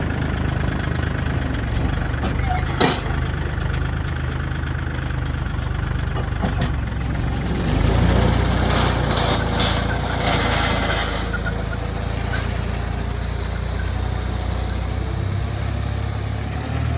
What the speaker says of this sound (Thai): เรื่องเครื่องตัดหญ้าไว้ใจแล้วครับ เครื่องตัดหญ้าตาเพชรครับ